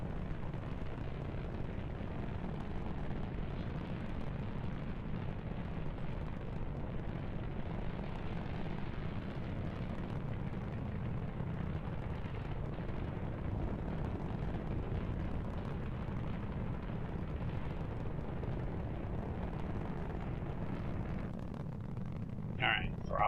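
Rocket engine roaring steadily through an ascent in Kerbal Space Program, a continuous broad rumble that holds level throughout with a voice talking over it.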